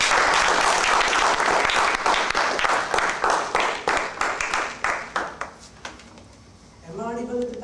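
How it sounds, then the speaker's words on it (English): An audience claps loudly and steadily in a hall. The applause thins into a few last claps and fades, then a voice begins speaking. "Another round of applause for me."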